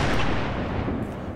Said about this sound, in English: It's just my grenades.